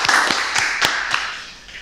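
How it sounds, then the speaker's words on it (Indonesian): A small studio audience on an Indonesian talk podcast from Maluku gives a few sharp, close claps that quickly thin out and fade. "Tepuk tangan untuk semuanya."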